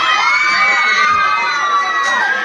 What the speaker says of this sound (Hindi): कते भीड़ छे, दर्शक सब आए छे दूर दूर से देखे के लिए।